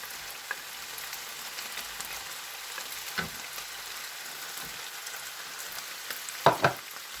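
Chopped onions sauté in a hot pan for homemade pizza, giving a steady close sizzle throughout with a few brief stirring clicks near the end.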